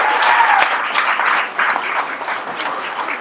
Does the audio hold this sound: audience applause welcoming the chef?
yes